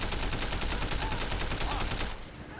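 Rapid, dense bursts of video game gunfire from Sleeping Dogs, a nearly continuous volley of loud shots that cuts off abruptly near the end, leaving a quieter background.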